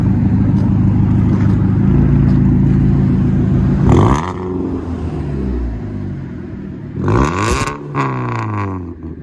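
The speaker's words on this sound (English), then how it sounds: "Cherry bomb mid and muffler delete and resonator delete with a 4-inch tip." A Ford Fusion with a Cherry Bomb muffler, muffler and resonator delete and a 4-inch tip idles with a loud, rumbling exhaust drone, then two sharp revs rise and fall, heard up close outside.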